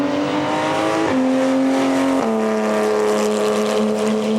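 A brand-new Porsche 911 race car at Symmons Plains racetrack roars loudly and steadily, its engine pitch climbing and then stepping down sharply at two quick gear changes.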